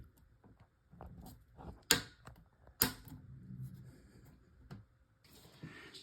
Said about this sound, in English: So as I put the supply line back on and tightened it, you could hear some clicking.